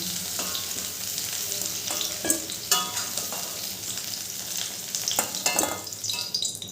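Cubed potatoes fry in hot oil left over from frying jackfruit, sizzling steadily throughout while a spatula stirs and scrapes them in sharp, irregular bursts, close and moderately loud.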